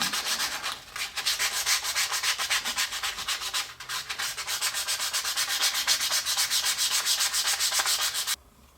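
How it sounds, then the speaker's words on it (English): Rapid, rhythmic rasping strokes of sandpaper rubbing along the edges of a wooden chip clip, close and steady for several seconds before stopping abruptly. "Give it all a really good sanding all the way around."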